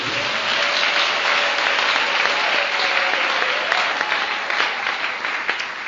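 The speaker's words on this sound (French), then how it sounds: "Est-ce qu'on peut acclamer pour la parole de Dieu?" Audience at an evangelism campaign applauds in a dense, steady wave of clapping that stays loud throughout, with a few voices faintly mixed in.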